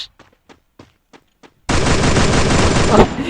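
Sustained burst of automatic gunfire from a Free Fire shooting video game, loud and continuous for about two seconds after a series of short, quieter clicks or taps.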